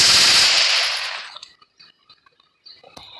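Rapid gunfire in a shooting video game, a loud burst that quickly fades, followed by faint scattered clicks and small sounds.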